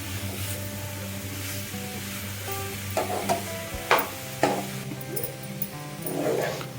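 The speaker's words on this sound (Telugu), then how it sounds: "సో ఇది ఫ్రై అయ్యే వరకు మధ్య మధ్యలో ఒకసారి ఇలా ఓపెన్ చేసుకొని తిప్పుకుంటూ ఉండాలండి." Cabbage and coconut fry sizzles steadily in a pan, with a few sharp scraping stirs near the microphone over the continuous frying hiss.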